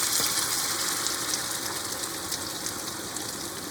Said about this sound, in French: J'ai mis un cube dans de l'eau et je vais venir verser de l'eau jusqu'à hauteur.